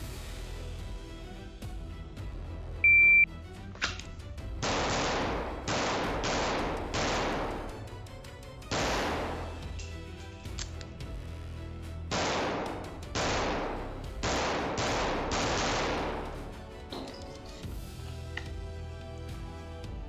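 Pistol fired during a shooting drill with a reload midway: two groups of sharp, loud shots in quick succession, separated by a pause, each report ringing out briefly in an open range.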